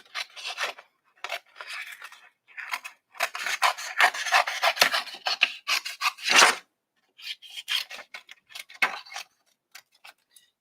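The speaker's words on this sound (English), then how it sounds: "I'm going to fussy cut these two elements." Scissors fussy cutting patterned scrapbook paper elements for a handmade mini album: close, crisp, rasping snips in quick irregular bursts with short pauses between them.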